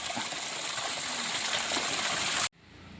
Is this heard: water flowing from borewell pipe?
yes